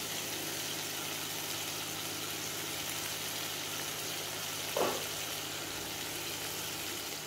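Paneer lightly frying in a kadhai, giving a steady, even sizzle that holds at a constant level throughout, with one brief louder crackle partway through.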